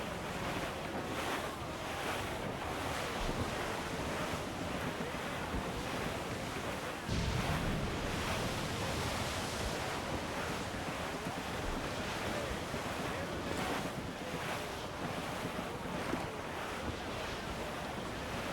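Wind and ocean waves roar steadily while a sailing ship cuts through the sea in Assassin's Creed 4 Black Flag, a loud, continuous wash of surf and gusting air with no voices.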